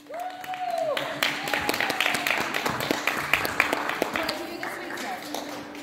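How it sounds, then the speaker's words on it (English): A crowd at a farm charity event applauds in dense, scattered claps that last several seconds. Chatter and a voice are heard alongside. "Big round of applause."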